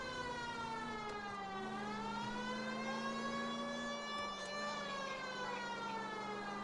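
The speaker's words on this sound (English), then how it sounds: "The siren's back for you." Police car siren in the 1940s Los Angeles crime game L.A. Noire, a loud steady wailing tone that slowly rises and falls, heard alone throughout.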